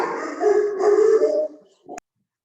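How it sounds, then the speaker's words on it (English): Scout, a team mascot dog, howls loudly and close for about a second and a half, then gives a short whimpering yip before the sound cuts off abruptly. "our team mascot, Scout, Jamie's dog"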